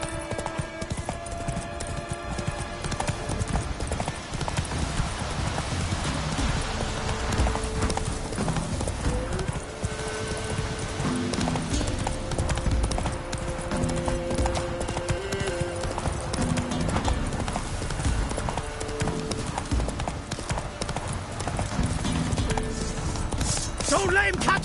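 Hooves of the horse Roach galloping in The Witcher 3 on PS5, a fast steady clip-clop rhythm throughout, close and loud, under game music and a spoken voice.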